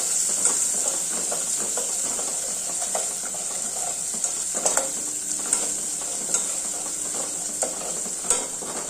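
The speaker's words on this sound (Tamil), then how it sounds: "இப்போ நான் பயிர் நல்லா கடைஞ்சி வச்சுருக்கேன் உப்பு போட்டிருக்கேன் இப்போ வதக்கிக்கலாம்" Sautéing shallots and tomatoes in a pan for a village-style green gram gravy gives a steady sizzle and frying hiss, broken by intermittent scraping stirs and light clicks of a spoon against the pan, close and without talk.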